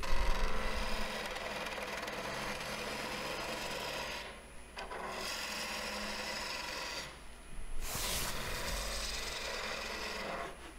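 A spindle gouge cutting wood on a lathe makes a continuous loud rasping hiss, dropping away in two short pauses between long sweeping cuts.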